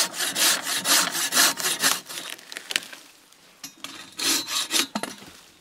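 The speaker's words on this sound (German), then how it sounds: "Und das werden wir jetzt mit dieser mächtigen Säge absägen." A hand saw cuts through standing dry wood outdoors in a bushcraft setting, making rhythmic rasping strokes close up, then a short pause, then more quick strokes.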